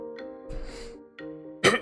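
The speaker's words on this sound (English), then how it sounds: "Clear my throat a little bit." A person clears their throat in a few rough, gravelly bursts, ending in a sharper, louder cough-like hack, heard close and alone.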